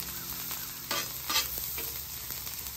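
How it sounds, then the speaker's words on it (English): Diced onion frying in butter on a hibachi-style griddle, with a soft continuous sizzle and a few spatula scrapes and stirs close by and no voices. "I'm gonna add the rest of that diced onion in there."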